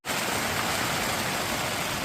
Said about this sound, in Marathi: आज तर मित्रांनो बाहेर मस्तपैकी पाऊस पडायला लागला